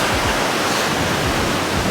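Ocean surf rolls in on a windy beach at night, a steady, loud broadband wash of breaking waves and wind buffeting, continuous with no talk.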